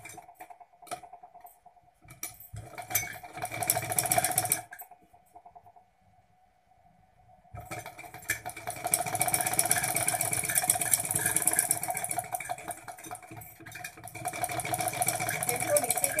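A sewing machine stitches piping along a V neckline, running in fast, steady mechanical bursts with a short pause between runs, close up and fairly quiet.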